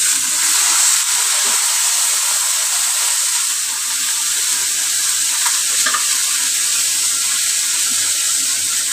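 Water poured into a pan of fried onions, after fish was fried, sets off a loud, steady hiss and sizzle that stays strong and continuous, with faint stirring underneath.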